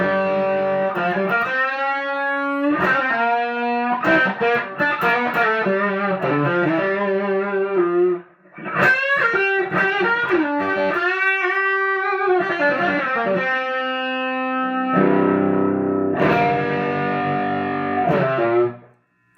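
An electric guitar runs through two stacked Lovepedal gain pedals into a 1976 Super Reverb amp, playing loud, sustained overdriven chords and melodic lines with a short break midway and no voices.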